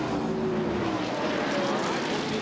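Helicopter flying over the Atlanta Motor Speedway during a 1997 NASCAR Busch Grand National race, a steady loud droning rotor and engine roar that fills the whole clip without letting up.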